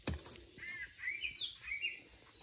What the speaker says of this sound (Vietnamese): Đây, con chim no trên cái ngọn cây.